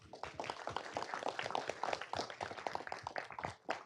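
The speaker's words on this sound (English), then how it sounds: "Let's give them a round of applause." People clap at a city council meeting, a short round of moderately loud, uneven hand claps from a modest group, lasting a few seconds.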